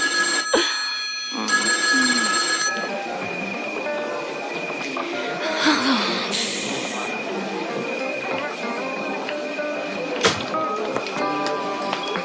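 A telephone bell rings in short repeated bursts in a French-dubbed drama scene, with voices speaking around and over it.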